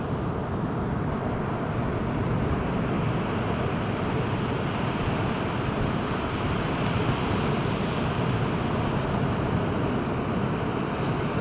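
Ocean waves break and wash on a beach during a morning walk, a loud continuous roar of surf with wind noise, steady throughout and without talk.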